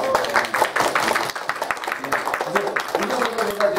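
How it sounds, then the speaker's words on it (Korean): A congregation at a Korean Sunday church service claps in a quick, continuous patter, mixed with voices talking over the clapping throughout. "우리 박수 한번 치겠습니다."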